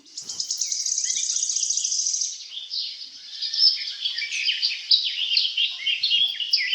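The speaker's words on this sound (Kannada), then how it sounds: "ನೋಡಿ ಎಷ್ಟು ಸುಂದರವಾಗಿದೆ ಪಕ್ಷಿಗಳು" Many small colourful birds chirp and tweet together in a dense, continuous chorus of high, rapid calls, with a shrill trilling stretch at first and then varied overlapping chirps, close and fairly loud, with no talking.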